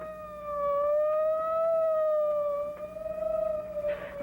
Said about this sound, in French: J'entends comme un gémissement. Comme une sirène de police.